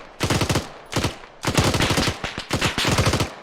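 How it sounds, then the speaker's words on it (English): A machine gun firing in the Arma 3 military game: loud, close bursts of rapid automatic fire, several separate volleys with brief pauses between them. "Big machine gun, get your head down."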